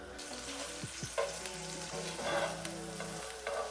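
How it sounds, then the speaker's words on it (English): Boiled pierogies fry in butter in a pan, giving a close, steady sizzle with soft crackles and a few light scrapes from stirring, fairly quiet overall. "Today I'm just gonna fry them in some butter and then they'll be ready to eat."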